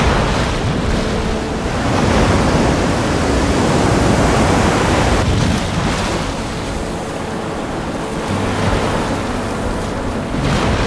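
Ocean waves roll in from the open sea at a surfing spot, a loud, continuous roar of breaking surf that swells and eases, with wind buffeting the microphone.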